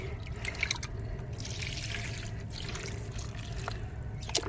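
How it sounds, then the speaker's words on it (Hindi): Water poured onto potted plants, a soft continuous trickle and splash with scattered drips, close and fairly quiet, no talking. "मैंने जल्दी से डालने आई हूँ पौधों में पानी"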